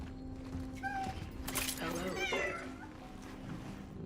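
A cat meows several times within the video game Cronos: The New Dawn, short mid-pitched calls over a steady game hum, with a person talking softly at moments.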